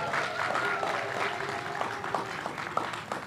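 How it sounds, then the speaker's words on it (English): Applause from an audience at a public art unveiling in Jamaica Plain, a steady wash of clapping for about three seconds with a few tonal sounds mixed in. "Please give a loud, loud round of applause."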